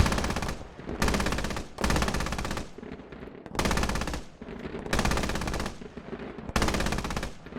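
Automatic rifle and machine-gun fire in the military shooter game Squad comes in about five loud, close bursts of rapid shots, each split by a brief quieter gap.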